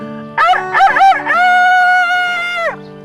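A human voice imitates a rooster's crow, with a few choppy rising syllables followed by one long sustained tonal call, close and clear.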